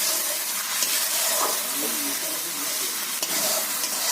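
Spices with a little turmeric being stirred and fried in a pan, a continuous close sizzle with a few soft scraping stirs across a few seconds, no voices.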